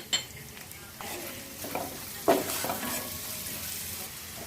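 Chopped onions and garlic with a pinch of turmeric fry in a pan for a chicken 555 dish, with a low steady sizzle, stirring scrapes and an occasional clink of a utensil against the pan.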